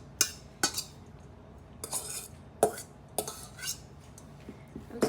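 A spoon scrapes and clinks against a dish while cooled macaroni is mixed in, a series of bright metallic taps roughly every half second to second, close and fairly quiet with nothing else heard.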